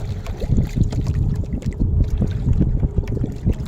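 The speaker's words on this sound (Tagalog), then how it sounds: "Yun yung mga bangkang mayroong mga makina guys." Motorized boats run on the open sea, a low, throbbing engine rumble that dominates nearby, mixed with gusty wind buffeting the microphone and faint water sounds.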